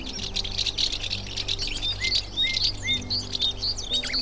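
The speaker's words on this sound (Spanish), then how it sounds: "servirán de alimento a currucas, mosquiteros, lavanderas, carboneros, herrerillos y tantas otras aves." Songbirds such as warblers, chiffchaffs, wagtails and tits singing in the Fuentes del Narcea natural park in spring: a dense, continuous chorus of high chirps, trills and short whistled phrases, fairly close, over a low steady hum.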